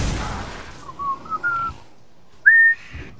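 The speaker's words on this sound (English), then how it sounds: "High pitch whistling." High-pitched whistling, a short run of brief wavering notes followed by a pause and then one louder, sustained rising whistle, close and without talk.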